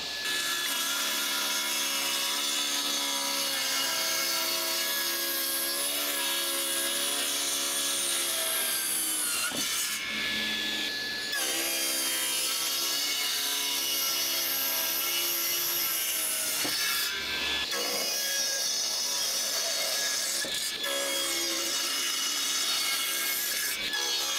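Wood being cut into drawer fronts for a workbench, a steady rasping saw stroke running continuously and loud up close, broken by two brief pauses, with no talking.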